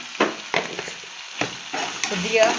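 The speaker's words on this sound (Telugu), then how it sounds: "ఫ్రై అవ్వనివ్వాలి." Spices and turmeric for a chicken fry curry frying in a pan, with bursts of sizzling and stirring scrapes at an irregular pace, close and moderately loud, and a voice speaking briefly over the cooking.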